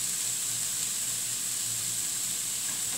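Cabbage stir-frying with garlic and onion in a pan for instant noodles with vegetables, giving a steady, even sizzle and hiss that runs unbroken throughout with no voices.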